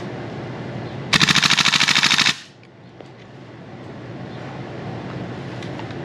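An M733 rifle rips off a single full-auto burst of about a dozen rapid, even shots lasting just over a second, loud and close outdoors, followed by quiet wind and faint background noise.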